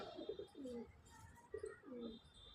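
A white chatiyal pigeon coos in two or three distinct, rolling phrases separated by brief pauses, close and fairly quiet, with no speech.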